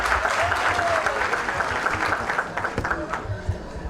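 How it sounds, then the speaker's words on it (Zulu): A crowd at a funeral ceremony honouring a hero bursts into dense, steady applause that continues throughout, with many hands clapping close by and voices mixed in. "Babazeni."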